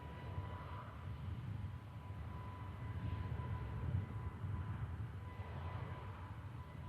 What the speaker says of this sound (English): Ryanair, Max is initiating the takeoff roll